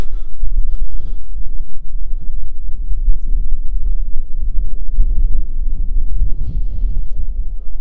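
Wind blows hard across a microphone on a mountaintop, a loud continuous low rumble with gusty buffeting that persists throughout.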